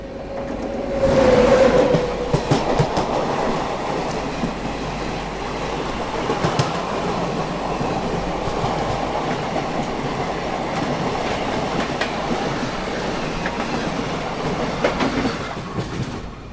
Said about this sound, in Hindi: सामने से कोई ट्रेन आ रही है